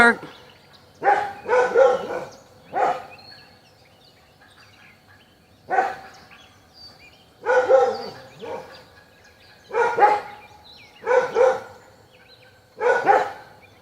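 Dogs barking at turkeys in bursts that come in clusters across the clip, several barks at a time with quiet gaps between, fairly close and loud.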